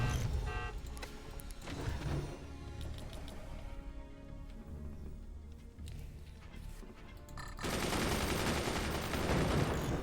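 Rapid machine gun fire rattles on in the video game Forts, dense bursts layered over a busy game soundscape, steady at first and growing louder and harsher near the end.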